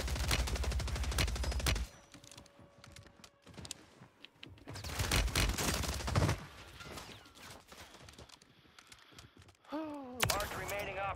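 Rapid bursts of gunfire from akimbo WSP Stinger submachine guns in the Warzone video game, loud, fast strings of shots broken by short pauses, with game sounds and a voice speaking between bursts.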